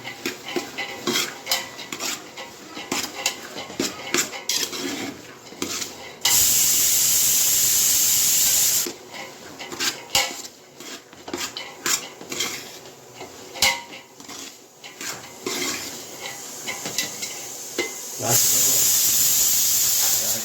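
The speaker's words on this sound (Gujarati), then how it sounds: "થોડી ચટણી નાખી, દાણા જેવું, નિમક અને ત્યારબાદ આપણે આને સરસ મજાનું હલાવી નાખીશું" Mixed beans being stirred with chutney, peanuts and salt, spoon scraping and clinking against a metal pot in uneven bursts, broken by two stretches of loud steady hiss, with voices now and then.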